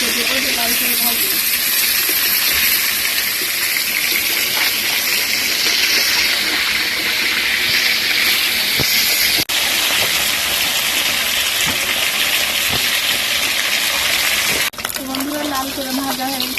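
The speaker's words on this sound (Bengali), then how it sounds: "মাছগুলো আমি আর একটু ভাজি দেবো, লাল করে ভাজি।" Tilapia fries in hot oil in a home kitchen until the pieces turn red-brown. A loud, continuous hiss and sizzle runs throughout, with a sharp clatter near the end.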